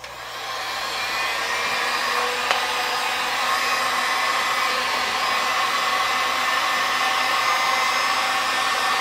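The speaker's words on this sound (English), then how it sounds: "So I'm going to use a heat gun." A cheap Harbor Freight heat gun blows a steady, loud whooshing hiss while heating 4-inch PVC pipe, with the airflow holding constant and unbroken throughout.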